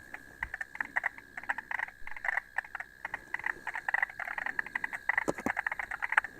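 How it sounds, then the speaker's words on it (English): A frog croaks in the dark outdoors at night, a rapid series of rough, rasping calls in irregular bursts, fairly close and steady over a quiet background. "There's another frog there."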